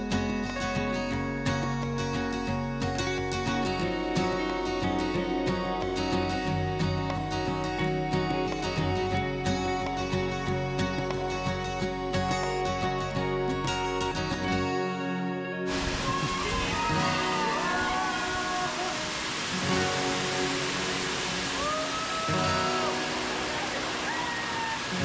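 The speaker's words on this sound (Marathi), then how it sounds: "धबधबा" Steady broadband rush of a small waterfall at a rural swimming spot, continuous and close, with music playing over it for roughly the first half before the water carries on alone.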